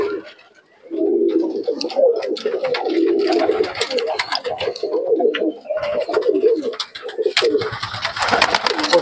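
Pigeons at a Murshidabad pigeon market coo nearby in loud, overlapping, rolling calls that carry on almost without pause, with faint voices in the background.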